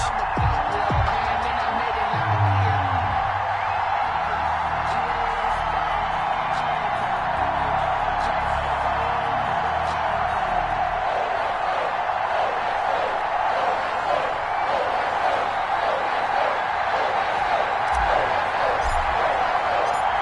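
Steady roar of a sold-out stadium crowd at a Patriots versus Ravens NFL game in an EA Sports football video game, a continuous dense wash of cheering with low rumbles early on, loud and unbroken throughout.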